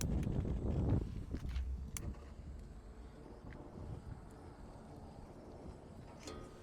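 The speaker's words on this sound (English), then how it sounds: "It's a little colder weather, it's a little windy" Outdoor wind buffeting on a cold, windy day during a fire test of a cavity barrier, a steady low rushing roar strongest at first, then easing to a softer continuous gust with no speech.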